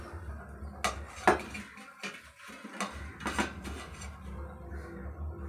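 A plate is set down among dishes and cutlery in a home kitchen while white rice is being served, giving a few close clinks and knocks spread over several seconds with no talking.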